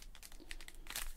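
A foil wrapper on a Marvel trading card pack crinkles and crackles in quick, close bursts as someone struggles to open it.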